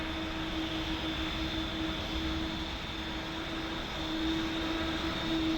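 Airliner engines in Flight Simulator 2024 drone steadily as aircraft come in to land, a continuous broadband roar with a sustained whine, even in level and moderately close, with no voices.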